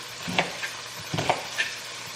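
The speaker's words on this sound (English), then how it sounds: "Chopping up some onion." An onion is chopped with a knife, producing a few sharp, irregular chops close by over a quiet kitchen background, with no talking.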